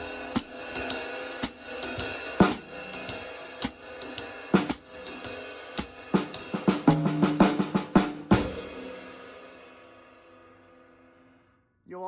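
Jazz drumming runs through the end of a 12-bar blues chorus, with time-keeping strokes building into a dense fill of rapid hits and crashes before a long cymbal ring fades out, alone and close.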